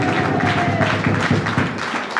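A church congregation claps at a Sunday birthday service: dense, close, loud hand claps with quick rhythmic bursts, fading slightly toward the end.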